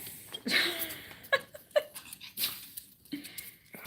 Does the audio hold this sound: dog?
yes